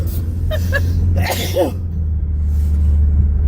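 A single sharp sneeze bursts out over a steady low rumble, like an idling car, with a brief breathy intake just before it.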